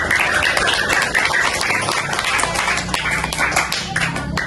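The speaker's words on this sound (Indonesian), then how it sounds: "Oke, tepuk tangan untuk kelas." Schoolchildren in an Indonesian classroom clap together for their class, a dense, steady patter of many hands at close range that carries on throughout without pause.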